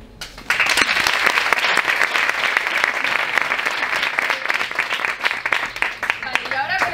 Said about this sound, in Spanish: Van a tener que aplaudir lo más fuerte que puedan cuando yo señale a uno de los dos people